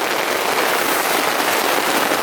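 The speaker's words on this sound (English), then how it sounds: "it's been raining pretty hard for quite a while now" Heavy rain drums on a canvas military tent in marshland, a dense, loud, continuous hiss of countless drops with no pauses.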